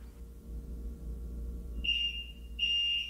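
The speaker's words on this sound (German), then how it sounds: "If you ever wonder what happens when you pull the fire alarm," Fire alarm set off by a pulled pull station, sounding as two loud, steady electronic tones, one near 1.8–2.4 s and a longer one from about 2.6 s, over a low room rumble.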